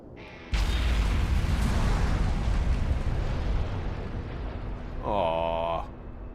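A video-game explosion from Mercenaries 2 detonates loudly with a sudden heavy blast, then a long roaring rumble of debris and fire that keeps going for several seconds, with a bright tonal electronic chime near the end.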